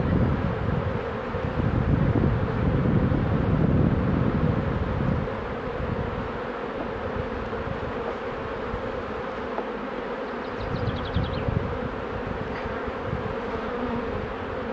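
Honeybees drone around an open production hive early in the season, a dense steady buzz that is loudest at first and then settles to a constant hum with faint wind, no voices.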